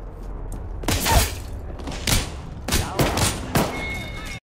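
Loud bursts of gunfire in Apex Legends come in several separate clusters of sharp shots with thuds between them, mixed with game sounds and a voice talking.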